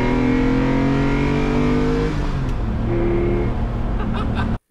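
A Lamborghini fitted with a Capristo exhaust revs loud and close, its engine tone rising and dipping in strong sweeps that fill the whole stretch before cutting off abruptly.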